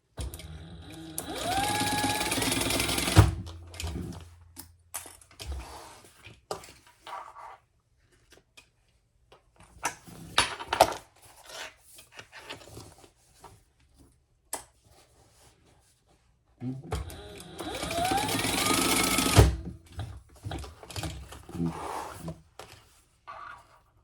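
A sewing machine bastes D-rings onto a bag panel in two rapid stitching runs, near and steady, separated by quieter fabric handling and small clicks.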